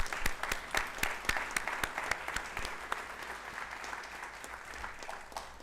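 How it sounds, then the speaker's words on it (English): An audience at a school district board of trustees meeting claps together, a steady wash of many hands with a few sharp individual claps standing out, moderately loud and gradually easing toward the end. "Let me hear you all clap."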